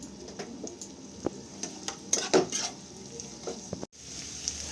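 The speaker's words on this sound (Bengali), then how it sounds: "পেঁয়াজগুলো হালকা ভেজে নিতে হবে" Sliced onions frying lightly in oil in a pan, a soft steady sizzle broken by scattered scraping and tapping stirring strokes, with a brief dropout near the end and no talking.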